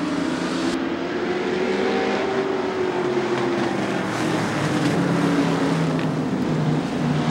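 Thunderstock race cars roar past together at the start of a race, a loud sustained engine drone with a rising and falling pitch as the pack passes, heard alone without talk.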